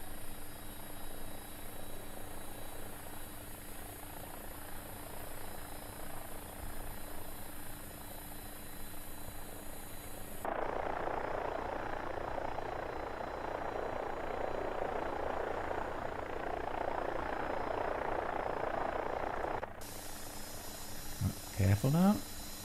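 AW-109 helicopter lifting off in the X-Plane 12 flight simulator: a steady turbine whine and rotor hum that swells as power increases, with someone talking over it.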